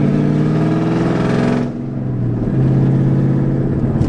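A cammed Mustang with straight-pipe axle dumps accelerates hard in second gear, a loud, close, raspy exhaust note climbing in pitch, then briefly dropping off before surging again with a lumpy, throaty drone.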